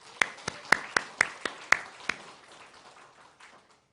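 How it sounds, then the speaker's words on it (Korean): Church congregation claps in praise, a handful of sharp separate claps spread over a couple of seconds in a reverberant hall, then fading out quietly. "찬양하며 박수 영광 돌리겠습니다."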